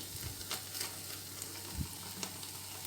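Beef for Mersin tantuni fries quietly in a pan, a soft steady sizzle broken by a few scraping stirs and light taps, faint and close.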